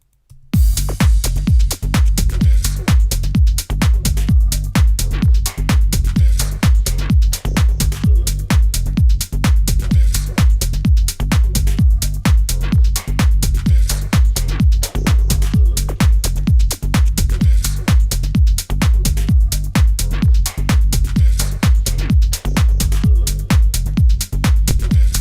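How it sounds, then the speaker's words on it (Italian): Minimal deep tech track playing back in a home production studio: a loud, steady electronic beat with heavy bass and dense, regular percussive hits running without pause, with no talking over it. "sentiamo un attimo la traccia"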